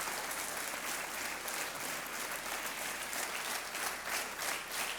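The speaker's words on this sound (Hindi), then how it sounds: "तालियां बजती रहे" Studio audience on a televised quiz show applauds steadily, a dense, even wash of clapping that holds at a moderate level throughout with no talk over it.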